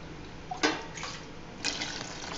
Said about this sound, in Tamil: இப்போ 2 டம்ளர் தண்ணி ஆட் பண்ணிக்கலாம்.